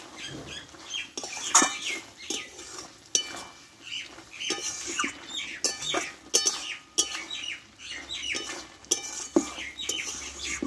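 A spatula scrapes and taps in a pan as cauliflower stalk curry with coriander leaves is stirred, making a series of quiet, irregular clinks and scrapes close by.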